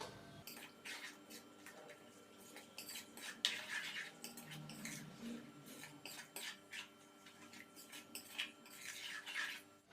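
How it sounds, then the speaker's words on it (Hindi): Whisked yogurt is stirred into bhindi masala in a pan, with a spoon scraping and clinking against the metal in quick irregular strokes, close but fairly soft. "तो नाज़रीन दही को डालने के बाद अच्छे से हमने इसको मिक्स किया है।"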